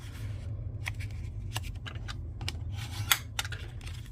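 Scored card stock is creased and folded in by hand while making a bridge fun fold card, giving a string of crisp paper taps, rustles and short clicks, close up and fairly quiet, with a sharper snap near the end.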